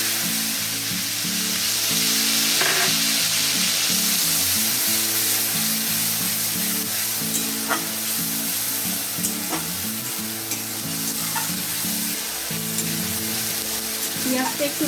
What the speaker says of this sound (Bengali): ডিম ভাজার তেলের মধ্যেই আমি পেঁয়াজ বাটা দিয়ে দিচ্ছি।